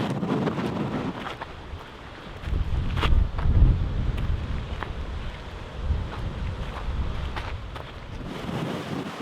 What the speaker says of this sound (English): we're probably gonna get drowned out by wind